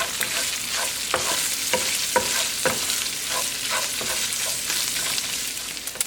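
Chorizo fries in a pan, giving a loud, continuous close-up sizzle with occasional crackles and light scrapes from stirring, no talk.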